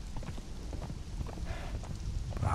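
Horse hooves clip-clopping at a steady walking pace in the video game Conan Exiles, over a continuous low background rumble, with no speech.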